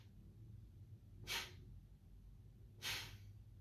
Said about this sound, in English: So, breathing through the nose, it'll look and sound like this.